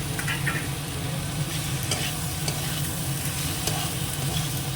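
Steady frying sizzle of eggplant in a pan, continuous and fairly close, with a few faint clicks of stirring over it and no talking.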